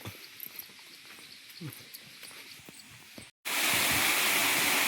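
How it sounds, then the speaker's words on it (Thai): A waterfall that is drying up, heard outdoors as a steady broadband rush of falling water. It starts faint with small ambient sounds, then after a brief gap becomes loud and close. "โอ้โหเสียงน้ำตกครับ"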